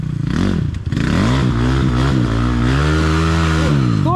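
A motor engine revving under throttle, a loud close droning roar whose pitch rises and dips with repeated blips of the throttle, held at high revs for a few seconds.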